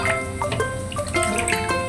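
Tap water splashes and drips unevenly as raw chicken meat is rinsed under it, a close, moderately loud wet clatter with small knocks and no talking.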